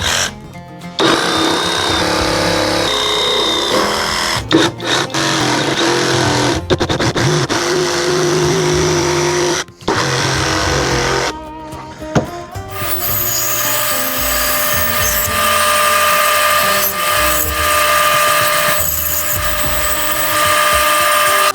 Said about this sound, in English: With either a bandsaw or a jigsaw, you can cut to those lines.